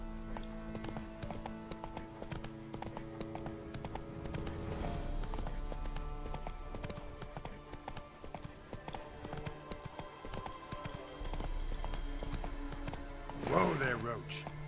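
Roach the horse's hooves clip-clopping at a gallop in The Witcher 3, a rhythmic drumming that runs throughout under game music and a voice, with a brief whinny near the end.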